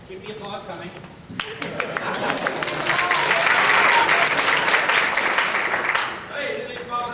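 Audience at the 20th Annual NSS Awards Banquet (ISDC 2001) claps steadily for several seconds, the applause swelling to a dense peak before easing, with indistinct crowd voices underneath.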